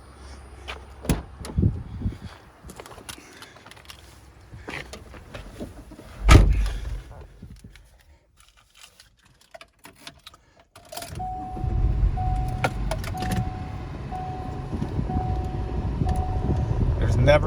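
A 2002 Subaru Forester AWD L with low miles is heard as a door thuds and the engine starts, settling into a steady idle with a faint repeating beep, while someone talks.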